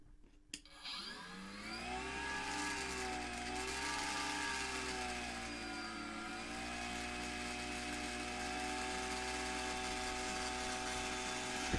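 A homemade spin coater, built for about €50 for coating PCBs, whirs up to roughly 4,000 RPM with a steady rising motor whine that settles into a constant hum, alone and fairly loud throughout.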